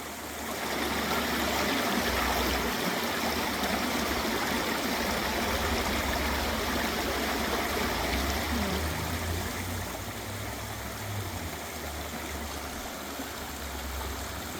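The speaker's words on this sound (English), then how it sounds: "There's a waterfall back behind us." Rushing water flows continuously at Blanchard Springs, a steady broadband roar of a waterfall and stream, even and uninterrupted, with no voices.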